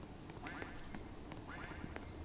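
Quacking of a duck in a Roblox horror school-escape game: several short quacks repeat over a steady, faint background hiss, with no talk.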